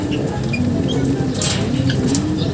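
A pigeon held in the hand for leg-ringing coos in a low, steady, continuous murmur, close by, with light background noise and no talk.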